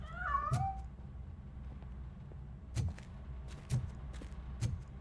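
A cat meows once in the video game Robocop: Rogue City, a short rising-falling call near the start, followed by several sharp percussive hits or thumps spaced over the next few seconds, with no talking.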